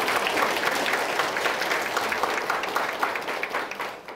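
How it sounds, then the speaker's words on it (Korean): A church congregation gives the choir a vigorous round of applause during a Sunday service, a dense, sustained roar of many hands clapping at once that stays loud and steady before easing off at the very end. "이왕에 박수를 치셨으니까 한 번 더 우리 꿈의 찬양대를 위해서도 힘차게 한번 박수해 주십시오"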